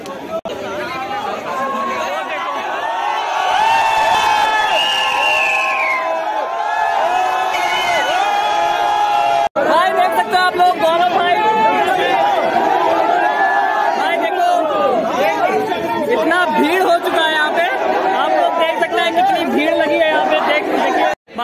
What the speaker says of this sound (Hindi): देखो गौरव भाई यहाँ पे देख सकते हैं कितनी भीड़ लगी हुई है